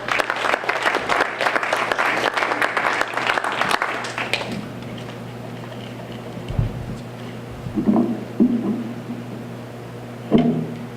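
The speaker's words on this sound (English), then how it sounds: "please give a round of applause for Chief Carley from the Everett Fire Department" An audience at an evening community event on the opioid epidemic applauds a fire chief from the Everett Fire Department, a dense burst of clapping for about four seconds that quickly fades, followed by a quiet room with a few faint voices and small bumps.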